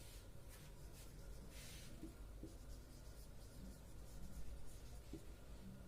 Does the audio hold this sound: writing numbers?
yes